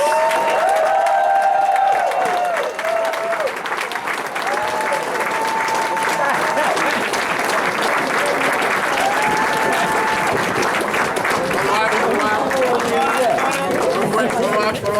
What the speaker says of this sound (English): please give an arousing applause for one of my dear friends